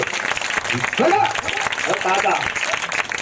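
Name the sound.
congregation clapping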